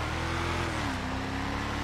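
The engine of a Declasse Walton L35 pickup in GTA Online drones at a steady mid-pitched tone, holding close and fairly even before easing slightly.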